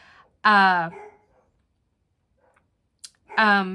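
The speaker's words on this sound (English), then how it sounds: "Atlas is barking in the background and he's distracting me" A dog barks twice, a few seconds apart, clear and fairly close, with quiet between the barks.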